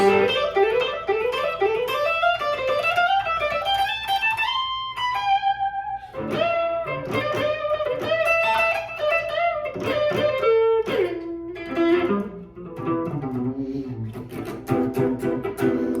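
An electric guitar plays smooth, flowing legato runs that climb upward in quick connected notes, with slight distortion, alone without any talking.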